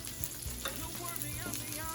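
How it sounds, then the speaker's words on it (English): Salmon sizzles steadily in a hot pan at home, a continuous close frying crackle with a few brief stirring or utensil clinks over two seconds, no one talking. "I'm going to let the salmon finish cooking."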